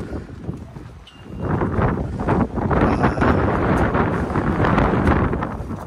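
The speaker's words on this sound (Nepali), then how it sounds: "हावा सुन न आवाज" Steady wind buffets the microphone on a snowy mountain hiking trail in Seoraksan National Park, South Korea, a continuous low roar that swells and holds with no talking.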